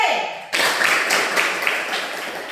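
Students in a classroom clapping for a group that has just presented, a brief tone fading out before a sudden onset of steady mixed hand claps that continue to the end.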